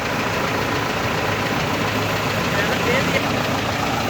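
A tractor with power steering, working with a silage machine cutting maize, runs its engine in a steady, loud, close drone that stays constant throughout.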